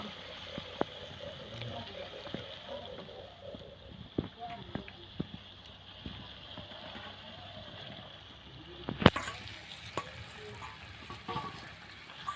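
Chicken going into a spiced masala in a pan, a low, even sizzle with scattered small crackles and clicks, then a sharp loud clatter followed by brighter, stronger frying.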